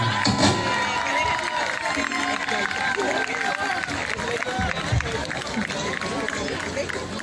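Audience cheering and clapping at a youth music festival in Aruba as a singer takes the stage, a loud, busy crowd roar with shouts and scattered applause, a voice talking over it.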